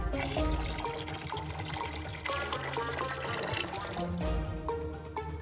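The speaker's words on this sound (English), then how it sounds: "Add water." Water pours steadily into a small LEGO washing machine full of dirty socks, a continuous close splashing trickle over a bed of background music.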